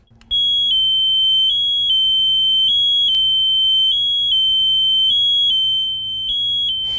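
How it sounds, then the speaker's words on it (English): Micro-Tech Sentinel pressure pad monitor in alarm, a loud steady high-pitched electronic tone pulsing in a regular repeating pattern, close and alone. "When you take your hand off of the pad, the monitor will go into alarm and confirm that the system is working."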